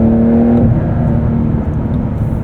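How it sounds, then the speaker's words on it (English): 2023 Porsche 911 Dakar with a 3-liter twin-turbo boxer engine, loud and close from the cabin, revs with a rising whine that drops off early, then a steady engine hum and road rumble carry on. "A lot of character too from this 3-liter twin-turbo boxer. I wish it revved a little bit higher, but it sounds good."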